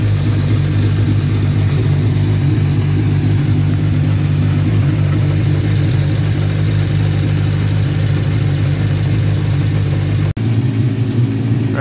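A Radical SR8 race car's Hayabusa engine idles while warming up, a loud, steady, buzzy drone held close for several seconds with a brief dropout near the end.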